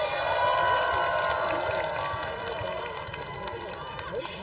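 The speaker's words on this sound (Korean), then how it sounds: "괜찮으셨으면 큰 박수 한번 다시 부탁드릴게요" Outdoor audience at a live concert during a Cheongdo full-moon folk festival gives a round of applause, with broad crowd noise and scattered cheers filling the space, steady and fairly loud, easing slightly toward the end.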